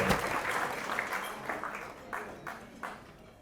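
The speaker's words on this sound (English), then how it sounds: "let's give these folks a round of applause" Audience applause at a San Francisco Republican Party evening event, a dense crowd clapping that gradually thins into scattered individual claps.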